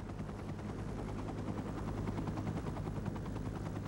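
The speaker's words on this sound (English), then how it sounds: "Pilot Craig Cowley flew the helicopter as low as he safely could in the dark." Steady, loud thudding of rescue helicopter rotor blades with a constant engine drone, continuous throughout and close by, flying low at night during an avalanche search.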